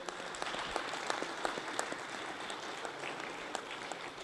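A large audience applauds at the closing session of a Commonwealth parliamentary gathering led by the Lok Sabha Speaker, dense sustained clapping filling a hall with a few sharper individual claps.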